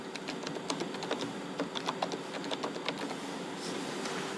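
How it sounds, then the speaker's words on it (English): Rapid, uneven keystrokes on a computer keyboard as a patient's name is entered, a quick run of close clicks with short pauses over a faint steady hum. "We have to type the patient name,"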